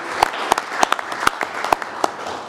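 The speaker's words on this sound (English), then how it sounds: "So I'd like to give a round of applause for all the volunteers in Moonlight Bay." A short burst of clapping at a city council meeting for Moonlight Bay volunteers, sparse and uneven, with a few distinct sharp claps standing out from a thin, scattered patter of hands.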